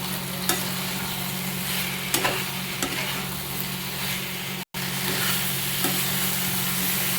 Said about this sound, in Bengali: এবার আলু আর ব্রোকলিটা দিয়ে একসঙ্গে কিছুক্ষণ একটু লবণ দিয়ে নাড়ব